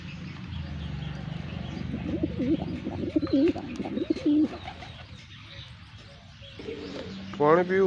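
Pigeons cooing nearby, several soft, throaty warbling coos in a loose rhythm, with light chirps and faint clicks against a steady low background hum.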